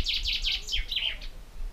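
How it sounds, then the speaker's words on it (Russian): A small bird sings outdoors in a rocky canyon, a quick run of bright chirped notes repeating about five times, then a softer trailing note, over low wind rumble. "Птичка прилетела, поет красивые песенки."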